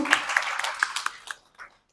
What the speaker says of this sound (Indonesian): Boleh minta tepuk tangannya Bapak Ibu?